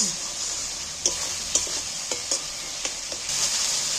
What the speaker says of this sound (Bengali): এবার মশলাটাকে সম্পূর্ণভাবে কষিয়ে নেব দেখো কষাতে কষাতে টমেটোগুলোও গলে গেল আর পেঁয়াজটাও গলে গেছে